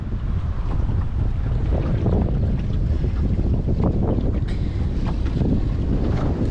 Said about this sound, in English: I'm having to use the engine on almost full power to get us anywhere with any sort of speed.